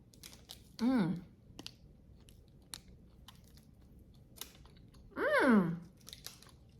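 A crispy protein bar is bitten and chewed near the microphone, with two loud crunchy bursts separated by quieter chewing clicks in an otherwise quiet room.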